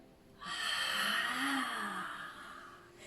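A long, audible exhale through the mouth during a Pilates exercise, a breathy rush of air close to the microphone that rises and slowly fades over about two and a half seconds.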